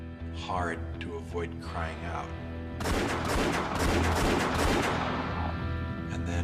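Gunfire in a documentary reenactment of Che Guevara's execution: a rapid volley of loud shots erupts midway, under a narrating voice that continues throughout.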